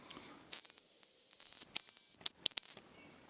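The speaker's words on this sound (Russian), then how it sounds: "Самец, вот самец и вот самка. Два вида свистулек." Two hazel grouse decoy whistles, male and female, give a long sustained high piping note, then a string of short, broken chirps and trills, loud and close with no talk.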